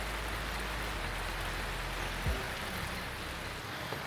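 Steady rain falls over the Kandegedara Sarniya landslide site, a continuous even hiss of drops on the ground with no voices, holding at the same level throughout.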